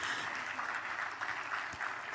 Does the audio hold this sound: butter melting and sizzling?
no